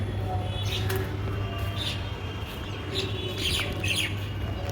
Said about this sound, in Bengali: কী সুন্দর পাখি কিচিরমিচিরও করছে